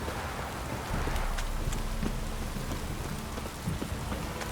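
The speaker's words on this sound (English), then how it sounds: "This downpour's a bastard, it is." Heavy rain downpour in The Witcher 3: Wild Hunt, a dense steady hiss of rain pattering on surfaces with scattered distinct drops and a low rumbling undertone, continuous and close, without speech.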